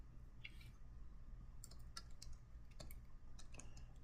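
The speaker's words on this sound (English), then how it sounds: "So we're going to type in group of 5 students walking on campus." Scattered keystrokes from text being typed on a computer keyboard, with short bursts and pauses between clicks, close and fairly quiet over a low background hum.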